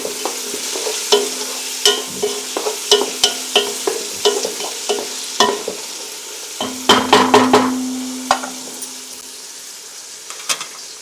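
Onions fry in a pan with salt until browned, soft sizzling under repeated scraping and clinking stirs from a spatula, close and fairly loud, with a brief louder flurry of stirring midway.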